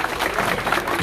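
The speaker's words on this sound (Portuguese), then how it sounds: "Os aplausos a esses ilustres." Audience applause at an official ceremony for the city anthem of Bernardino Batista, Paraíba: a brief, dense burst of clapping that fills the whole moment.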